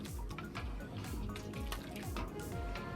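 Cold tap water runs over cooked noodles in a strainer, a faint, steady splashing gush with a continuous watery hiss.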